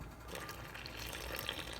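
Water trickles and splashes into a bowl of dough mixture, a steady, soft, close pour with faint bubbling and no talking.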